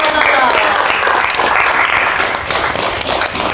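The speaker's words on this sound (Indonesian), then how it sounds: "tepuk tangan dong buat Nono" An audience claps and applauds for a school student at a talk-show style event, a dense, continuous burst of clapping close by, with speech mixed in.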